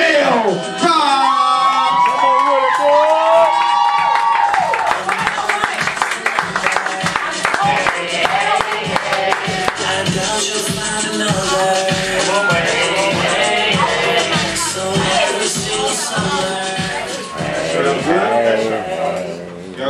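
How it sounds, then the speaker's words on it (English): An audience at a live poetry event cheers, whoops and claps for a poet being welcomed to the stage, with loud shouting voices and applause building together throughout. "put your hands together for my man, Mel Rob"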